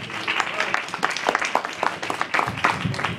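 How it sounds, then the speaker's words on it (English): A crowd at an open mic applauds steadily, a dense patter of many hands clapping at moderate volume throughout. "They gave a round of applause for Brandon Felix Morel."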